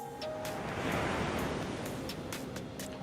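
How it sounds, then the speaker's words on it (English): Ocean waves wash onto the shore in the video game NIKKE, a soft steady surf hiss rising and falling gently over a few seconds, with no voices over it. "She listens to the sounds of the waves."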